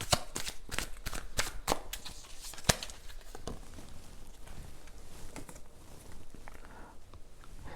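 Tarot cards are shuffled in a quick series of crisp riffling slaps, then slide and rustle more softly as they are drawn, close and fairly quiet.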